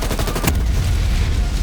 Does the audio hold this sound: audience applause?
no